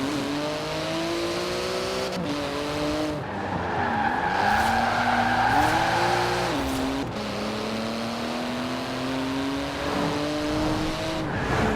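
Porsche 911 GT2 RS in Forza Horizon 4, with titanium exhaust and magnesium wheels, revs and shifts steadily through gears, with tyres squealing and skidding under sustained loud engine noise.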